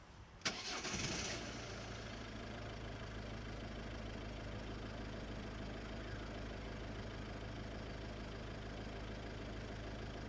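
A 2008 Ford Focus with a newly replaced alternator cranks briefly and fires up, then settles into a steady, close idle that runs on alone.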